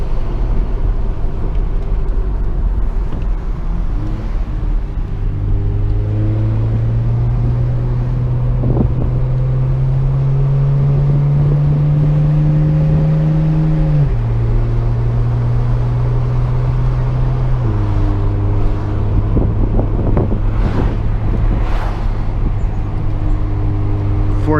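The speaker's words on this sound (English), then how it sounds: "It auto rev matches on the downshift." A car with a dual-clutch transmission, driven in sport mode on Falken tires, drones steadily at close range as engine revs rise and drop through downshifts with automatic rev matching, under constant wind and road noise.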